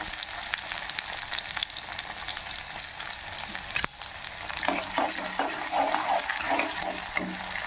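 Sliced garlic frying in oil in a pan for an Andhra-style gongura chutney, a steady close sizzle with scrapes of stirring and crackle that grows busier toward the end, no talk.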